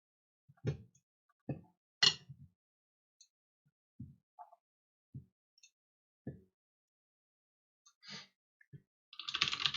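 Keystrokes on a computer keyboard entering a GRUB bootloader install command during an Arch Linux setup, sparse clicks and taps in short bursts, close and fairly quiet, ending in a quick flurry of typing.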